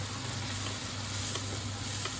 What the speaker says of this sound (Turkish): Hemen kızarmaya başladı. Yağ kızgın